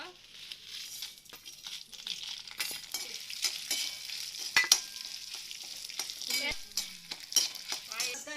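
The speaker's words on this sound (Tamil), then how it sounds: "வெள்ளத்தை மட்டும் வச்சுட்டு மீதியெல்லாம் வறுத்து எடுத்துடலாம்" Cumin, coriander, tamarind and a dozen dried red chillies dry-roasting in a pan, a soft crackle broken by repeated sharp scrapes and rattles of a stirring spoon, fairly faint and without talk.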